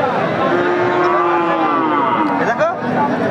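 Cattle moo loudly and close by at a livestock market where Pakistani-breed bulls are being sold. One long, drawn-out low moo fills the moment, with no talk over it.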